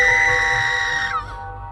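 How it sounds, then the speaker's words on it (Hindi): A girl's scream as a horror story sound effect, a sustained high, strained cry held loud for about a second before breaking off and trailing into quieter reverberant noise. "आर्या चीखी"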